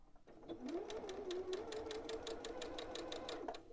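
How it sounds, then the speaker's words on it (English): Sewing machine chain piecing quilt pieces for a springtime table runner, running steadily and close for several seconds with a rapid, even stitching rhythm and no talk. "So I'm going to chain piece these. You need to sew on the line."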